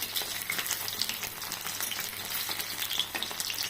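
Pieces of food frying in hot oil in a pan, a steady dense crackling sizzle that stays close and even from start to finish, with no voices.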